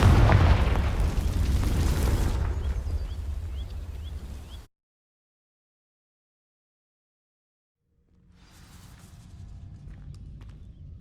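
In Hogwarts Legacy, the Confringo fire spell ignites dry vines with a loud, roaring burst that fades over a few seconds, cuts to silence, then a quieter crackling rumble returns.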